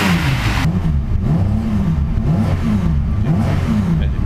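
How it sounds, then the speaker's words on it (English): A cold Datsun 240Z engine with a big wild cam idles roughly and loudly up close, its lumpy, loping beat pulsing unevenly and steadily with no talk. "It has a big wild cam, as you can hear"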